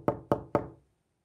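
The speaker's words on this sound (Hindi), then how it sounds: "एक शख्स ने आकर दरवाजा नॉक किया" Three sharp knocks on a door, evenly spaced and fairly close, each with a short resonant decay, followed by silence.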